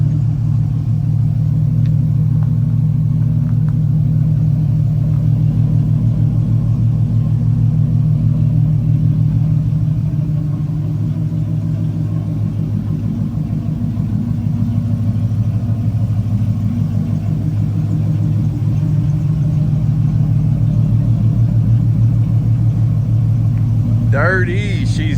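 Dodge Charger SRT8 fitted with long tube headers rumbles steadily for the whole stretch, a deep continuous engine drone at close range with mild swells in level and no clear high revs.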